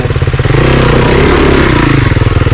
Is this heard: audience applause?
no